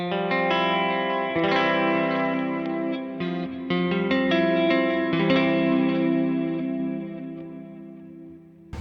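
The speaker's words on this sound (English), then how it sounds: "Snapshot 1, wet, the normal wet effects." An electric guitar runs through an HX Stomp preset modeled on AC and Matchless amps with wet effects, layered chords ringing under lush chorus, echo and reverb with light drive, sustaining steadily, with a fading tail at the end.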